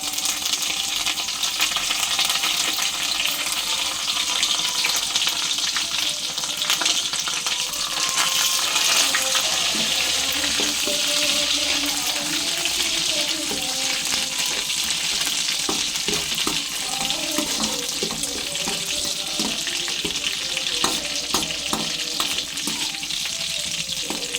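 Urad dal, cumin, garlic and curry leaves sizzle and crackle steadily in hot oil as a tempering for a red chilli and ginger pickle, with loud continuous frying and scattered pops and stirring scrapes throughout, no voices.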